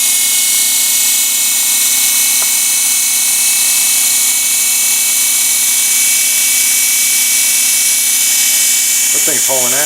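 An Oster electric hair clipper motor running after a brush replacement, a loud, steady high-pitched whine and buzz that holds unbroken throughout, with a brief wavering change at the very end.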